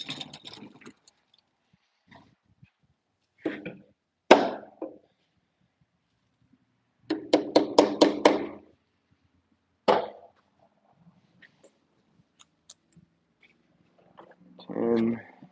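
On a construction job, a part is knocked sideways to center it inside its housing: single sharp strikes, then a quick burst of about six hammer-like blows, another lone knock, and a person talking briefly near the end.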